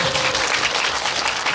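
Audience applause at a Korean film screening's guest visit in Wangsimni, steady dense clapping from a large crowd filling the whole moment without pause.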